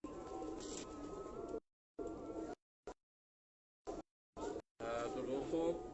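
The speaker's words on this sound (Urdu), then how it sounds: "یہ جو کبوتر آپ کے ہاتھ میں دیکھ رہے ہیں یہ دونوں" Pigeons held in the hands at a hobbyist's loft in Kamoke give soft, intermittent cooing beneath someone talking steadily, with the talk breaking off in short gaps.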